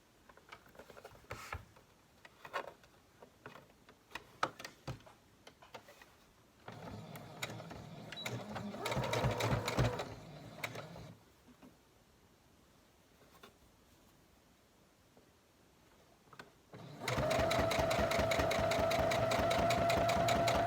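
A domestic sewing machine stitches a fabric mask close to its edge in short bursts of rapid mechanical whirring separated by pauses, ending in a louder, steady run of stitching.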